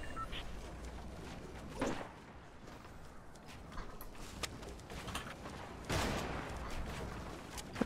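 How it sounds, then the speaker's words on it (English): Sniper gunfire in Fortnite Battle Royale: sharp reports crack out amid game ambience, a couple of louder shots standing out over scattered smaller bangs. "We are being sniped at"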